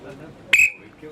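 One short, sharp referee-style whistle blast starts a timed goal-scoring challenge on a football pitch, clear and brief against low background murmur.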